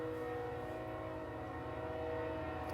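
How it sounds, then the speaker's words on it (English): A steady rumbling train passes with a sustained horn-like drone, constant and fairly loud throughout. "So many trains."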